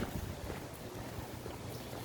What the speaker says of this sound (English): Man, the wind is blowing.